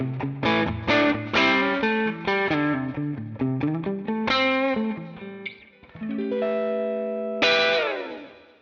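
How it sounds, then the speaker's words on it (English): Electric guitar played through the Scuffham S-Gear amp simulator on a clean tone at the edge of breakup, a run of picked notes and chords with slight grit, ending on sustained ringing chords. "you can get tones like this. You know, those clean sort of sounds just on the verge of breakup."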